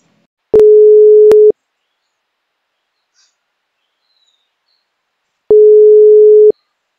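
A telephone busy signal sounds when a call is placed again: two loud, steady one-second tone bursts separated by several seconds of silence.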